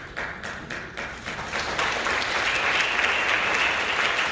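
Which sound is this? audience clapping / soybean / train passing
audience clapping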